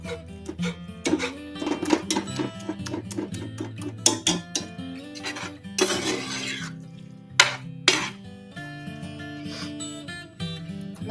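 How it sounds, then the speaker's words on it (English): Repeated scraping and clanking of a utensil mashing beans in a metal pot, in uneven bursts with brief pauses. "The great thing about mashing this yourself is that you can make it the texture you like."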